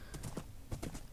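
Horse hooves clip-clopping in Minecraft as a player rides, a quick run of close, fairly quiet hoof clops in an uneven rhythm with no talk.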